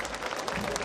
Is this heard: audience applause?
yes